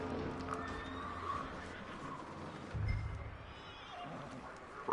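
Horses neighing in the Red Dead Redemption 2 video game, faint and somewhat distant, with a few whinnies over a low, steady ambient background and a louder burst at the very end.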